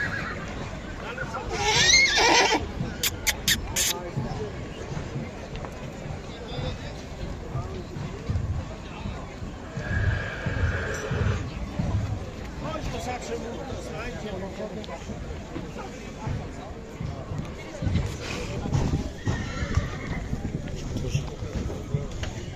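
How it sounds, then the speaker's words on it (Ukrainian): Draft horses at an outdoor horse market in Poland neigh and whinny loudly several times, with hooves clopping and a crowd babbling and talking around them. "Тут теж було багато коней, там ще, там ще і є багато."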